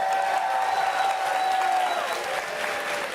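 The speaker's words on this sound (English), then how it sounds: "So give yourselves a round of applause for that." Steady applause from a crowd at a Dead by Daylight tenth-anniversary broadcast, dense clapping at an even level throughout with no voices standing out.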